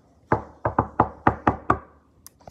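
Seven firm knocks on a door in an uneven rhythm, close and loud, with a faint clatter trailing after.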